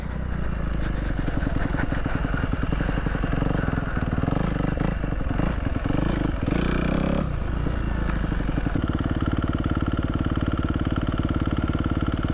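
Motorcycle engine running steadily on a sketchy abandoned dirt road, a continuous close mid-pitched drone with clattering texture, shifting tone briefly around the middle and settling into an even idle-like hum toward the end.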